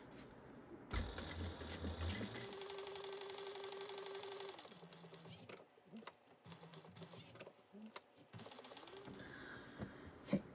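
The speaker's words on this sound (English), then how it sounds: "I'm going to take it and sew around the box all the way." A sewing machine stitches around a box shape on a bag, with a soft, steady mechanical hum in stretches interrupted by pauses, clicks and handling noises.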